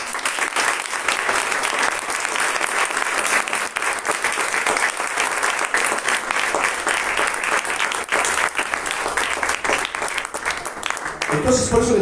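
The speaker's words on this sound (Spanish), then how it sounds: "¿Le pueden dar un aplauso al Señor?" A church congregation breaks into loud, sustained applause that fills the room, dense and steady throughout before tapering off at the very end.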